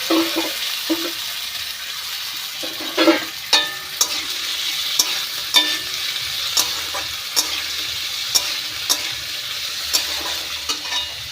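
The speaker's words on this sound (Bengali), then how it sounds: "এইদিকে আলুটা তোমার ভাজা হোক" Steady crackling sizzle of potatoes frying in a wok, with periodic sharp scrapes and clinks of a spatula stirring them.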